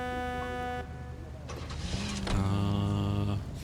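Car in the video game LA Noire, an engine running with a steady low hum that rises into a louder, sustained rev midway, accompanied by a faint mechanical whir.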